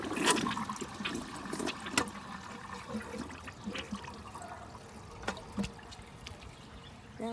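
A toilet at a beach flushes close by with a loud opening gush of water, then fades into uneven gurgling and trickling as the bowl drains.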